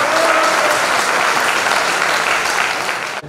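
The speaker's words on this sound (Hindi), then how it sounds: "एक बार आपकी जबरदस्त तालियां दोनों लोगों की हो जानी चाहिए।" Audience applause at a gathering of guests and students, loud and dense from the start, holding steady for a few seconds before cutting off abruptly.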